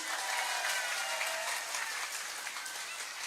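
An audience at an Islamic religious lecture claps steadily for a few seconds, a dense patter of applause with no voices over it.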